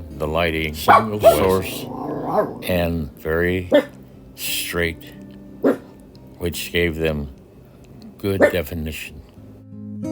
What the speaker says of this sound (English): You will have to excuse my puppy dog